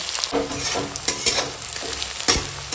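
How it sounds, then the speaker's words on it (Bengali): Onions and green chilies frying in hot oil with spice tempering in a home kitchen, a steady close sizzle broken by several scraping stirs of a spatula across the pan. "ওই তেলেই এখন ফোড়নে আর দিয়ে দেবো কেটে রাখা পেঁয়াজ আর কাঁচা লঙ্কা দিয়ে এখন পেঁয়াজ কাঁচা লঙ্কা ভেজে নেবো।"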